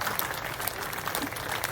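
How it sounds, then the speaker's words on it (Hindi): An elderly man clapping at a political gathering in Uttar Pradesh, his claps blending into a continuous wash of crowd noise and clapping that runs unbroken through the short stretch. "देखिए एक बुजुर्ग व्यक्ति ये तालियां बजा रहे हैं"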